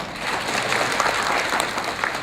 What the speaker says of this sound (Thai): ปรบมือท่านด้วยครับ